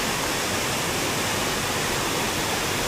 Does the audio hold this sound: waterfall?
yes